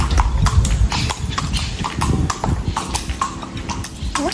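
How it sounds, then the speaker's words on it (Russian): A horse walks on the streets of an old colonial town in Colonia del Sacramento, Uruguay, its hooves clip-clopping in a steady close rhythm over a windy, rumbling background. "Вот, кстати, лошадка."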